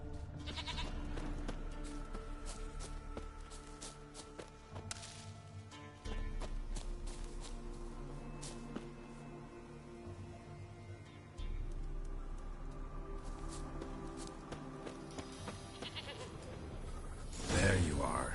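A goat bleats in The Witcher video game, short bleats scattered over a quiet game ambience with hoof clops, while a voice talks in between.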